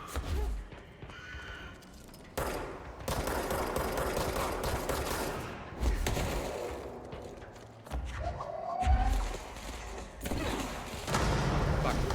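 Enemy gunfire in the video game Control, bursts of rapid shots and clatter coming and going over about twelve seconds, moderately loud, mixed with game sounds.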